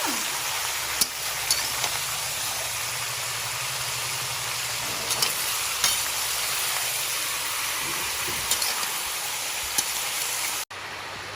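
Local farm chicken meat frying in a pan while being stirred, a continuous crackling sizzle broken by occasional clinks of the spoon against the pan, with no talk.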